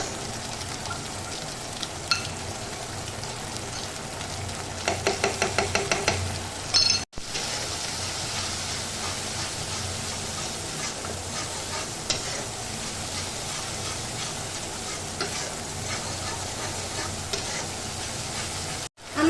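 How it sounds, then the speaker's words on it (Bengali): Spice paste sautéing in a pan for a vegetarian spiced ridge gourd dish, a steady close sizzle with scraping stirs throughout, a quick run of sharp clacks near the middle, no talking. "এখানে মশলাটা কষানো একদম কমপ্লিট"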